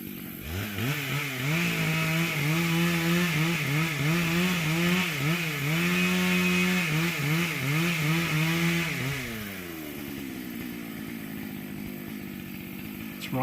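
A chainsaw cuts through a big tree during felling, its engine running loud and steady with rising and falling revs as the cut is feathered, then settling to a lower idle near the end.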